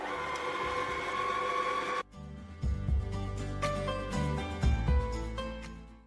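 An electric mixer whirs steadily through pie dough of flour and baking powder, a bright whine that drops abruptly into a lower, labouring drone with faint knocks as the beaters work the thicker mix.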